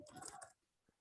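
Quick clicking keystrokes on a computer keyboard, a short close burst that stops abruptly, leaving near silence with a single faint tap afterward.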